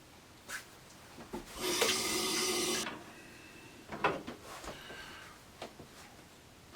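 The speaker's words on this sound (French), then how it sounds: "Je vais me rincer la figure" Tap water runs in a short steady burst while a face is rinsed after a traditional shave, followed by scattered small splashes and rubbing sounds, close by with no talking.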